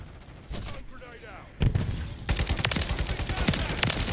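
A Kastov 762 rifle fires in a video game, quieter shots at first and then dense, rapid, loud bursts of gunfire that continue steadily to the end.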